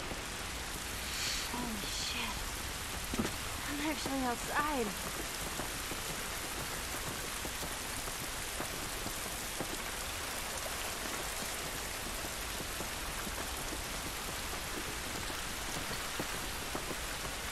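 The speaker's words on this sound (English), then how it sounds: "This rain ain't gonna do us any good." Steady rain hisses throughout The Last of Us Remastered, a dense even patter that continues after a few brief voices early on.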